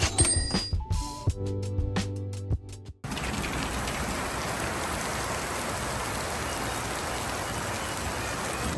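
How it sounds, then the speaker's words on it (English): Steady, heavy rain pours down on a release day at a Lego store, a dense unbroken hiss that takes over after a few seconds of bell-like chimes and tonal sounds. "it has been raining like all day"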